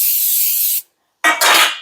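Dollar store cooking spray blasts into cake pans in two loud, close hissing bursts separated by a short silence.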